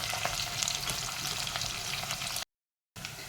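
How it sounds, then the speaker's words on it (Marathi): Onion, curry leaves and cumin sizzle in hot oil with a bright, steady crackle close by, broken by a brief silent gap before the frying resumes. "जिरे थोडे भाजले की आपण त्याच्यामध्ये हा कढीपत्ता आणि कांदा घालूया कांदा आपण थोडासा भाजून घेऊ"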